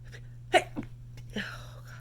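A woman with a cold lets out a sharp, sudden sneeze, close and fairly loud, with breathy gasps and a softer follow-up sound after it against a low steady hum.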